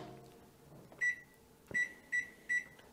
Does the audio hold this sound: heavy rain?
no